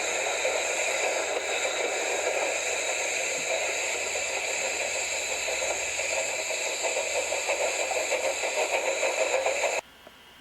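A steady hissing, rattling drone from an old engine in a Mr Benn cartoon runs continuously under a faint rhythmic chuffing and cuts off abruptly near the end.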